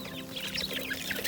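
Native Darag chickens in a small ranging area give soft overlapping clucks against a steady background hum, fairly faint and continuous.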